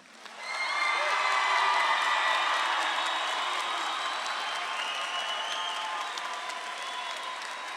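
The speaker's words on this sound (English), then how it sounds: "Let's all please give one more round of applause for our graduates." Clapping and cheering swell quickly from a large crowd honoring graduates at a high school graduation, a dense sustained ovation with whoops and shouts that tapers gently toward the end.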